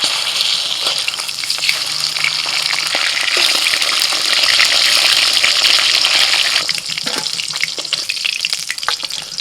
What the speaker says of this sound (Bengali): এই যে আস্তে আস্তে জামাই পিস এবার গরম তেলে দিই